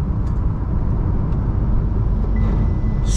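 Inside a Tata Safari Red Dark Edition on the road while overtaking, a loud, steady low engine and road rumble fills the cabin with a faint rising hiss near the end. No one speaks.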